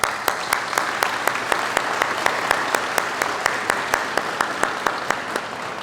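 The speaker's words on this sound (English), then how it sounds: "please give yourselves a round of applause" Audience applause at a school district convocation, a steady crowd clapping at moderate distance that holds even and sustained throughout, with a faint murmur of voices underneath.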